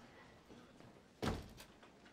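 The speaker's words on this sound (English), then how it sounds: "Shut the door." A door shuts with one solid thud in a hospital setting, a sharp, fairly close impact that decays quickly over a quiet background.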